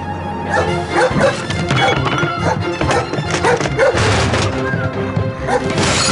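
A dog in an animated children's adventure barks loudly amid a dense mix of music and sound effects, with crashing and whimpering sounds in the busy soundtrack.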